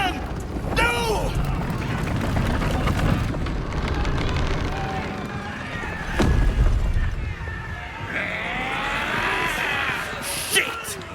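A cannon blast booms during a chaotic battle in Baldur's Gate 3, a loud low burst partway through, set among other rumbling impacts and shouting voices.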